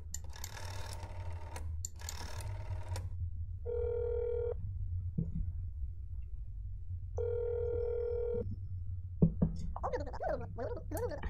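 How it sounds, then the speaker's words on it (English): Phone ringing inside the horror game That's Not My Neighbor: two long, steady electronic rings set apart by a pause, bright and clear, with game noise and a low background hum beneath. "I'm gonna call to see if you or your sister answer the phone."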